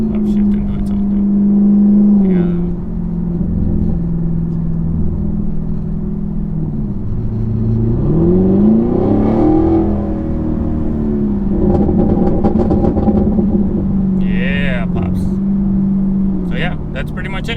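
A 2021 Camaro SS 1LE with a cat delete and MBRP exhaust accelerates and upshifts on its own. The loud, close exhaust drone rises in pitch, dips at each gear change and climbs again.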